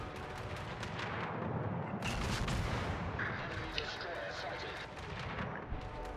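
Naval guns from a ship in a video game fire blind into a smoke screen, a dense run of booming shots and blasts layered with game effects, loud and continuous throughout.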